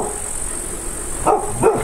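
Two quick barks from a dog hidden behind a stack of firewood in a quiet woodland village ring out after a stretch of near silence, moderately close over a faint steady hiss.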